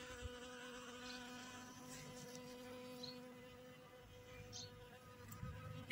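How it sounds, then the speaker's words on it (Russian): Bees buzz steadily in flight in early morning, a faint continuous hum with a few insects passing closer now and then, no voices. "Пчелы на аромат летят."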